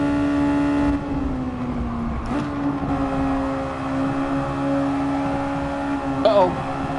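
Simulated race car engine in Gran Turismo Sport holding a steady high drone that dips and climbs as throttle is applied, with a brief sharp rise near the end, played at a constant, fairly close level.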